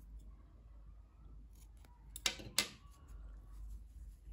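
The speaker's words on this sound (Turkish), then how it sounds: "Bakın şu ipliğin ucunda kesiyorum." Scissors snip through the end of the yarn while crocheting; two sharp, close cuts stand out against quiet background hiss.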